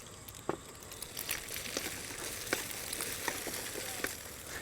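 Egg, carrot battens and whole snap peas frying in a pan for a Thai dish, a soft steady sizzle broken by faint scattered clicks and scrapes of stirring, with no voices.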